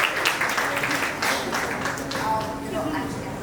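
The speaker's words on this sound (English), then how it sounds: "I think we need to give him a round of applause" At an India entertainment fest panel, an audience applauds an actor, moderate clapping under and around a speaking voice, fairly quiet and steady throughout the short stretch.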